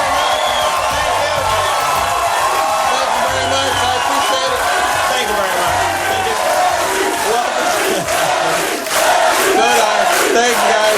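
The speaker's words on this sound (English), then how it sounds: "What a great crowd." A TV studio audience at a late-night comedy show cheers and whoops loudly and continuously, a dense roaring crowd with shouts rising throughout.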